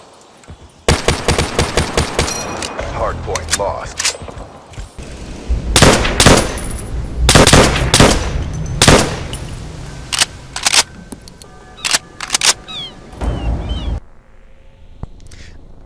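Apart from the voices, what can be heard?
MX Garand rifle gunfire in video game Black Ops 3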